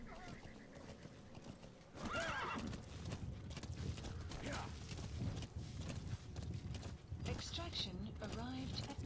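In Metal Gear Solid V: The Phantom Pain, a horse whinnies and snorts while its hooves clip-clop in a steady gallop, with mechanical game effects and a voice speaking briefly over it.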